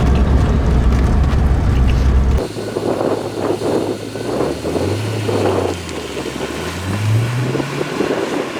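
A V8-engined car accelerates past in fifth gear, its engine tone rising and falling in pitch as it draws near and pulls away, loud under heavy wind buffeting on the microphone, after a burst of close wind roar.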